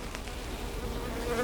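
Honeybees buzz steadily around an opened hive during an inspection, a close, continuous insect drone holding for the whole moment with no voices over it.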